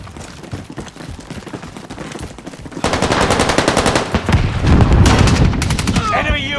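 Sustained automatic gunfire in Call of Duty: Warzone on PS5 during a Rebirth Payload match, starting as distant popping and swelling into dense, loud, close rapid fire with explosions and background game chatter.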